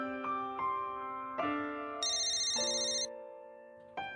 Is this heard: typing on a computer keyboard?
no